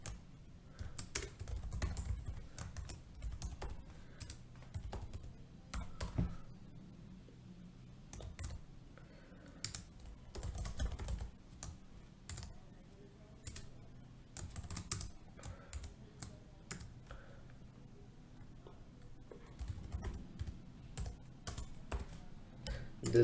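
Fingers type a simple C program on a computer keyboard in quick bursts of soft, close key clicks, broken by short pauses, in a quiet room.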